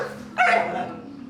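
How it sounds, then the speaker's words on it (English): A disoriented dog in distress gives a short whimpering yelp and bark, mid-distance, over a steady low background hum. "As the dog starts barking, concerns rise and the mood shifts."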